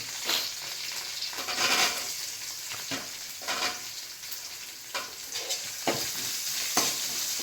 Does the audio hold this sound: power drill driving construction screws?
no